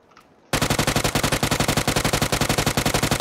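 Rapid automatic gunfire in a video game bursts in after a moment of near quiet, a loud, continuous rattle of evenly spaced shots that keeps going to the end.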